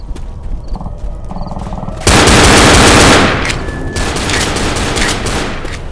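Gunfire in Left 4 Dead, a loud sustained burst of rapid shots erupting partway through, preceded by quieter game ambience and continuing as dense, close firing.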